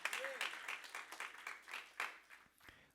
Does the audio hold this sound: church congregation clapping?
yes